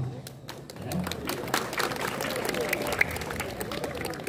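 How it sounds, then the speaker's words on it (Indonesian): Students at a Hari Santri Nasional gathering in an Islamic boarding school clap in uneven, scattered bursts that thicken into looser applause, heard at moderate distance with murmuring around it. "Tepuk tangan."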